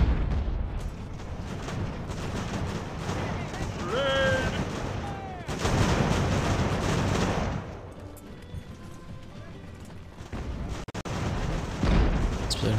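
Artillery fires in the naval strategy game Ultimate Admiral Age of Sail. Loud, rumbling cannon blasts and crackling volleys run through most of the stretch, with a short lull before another heavy burst at the end.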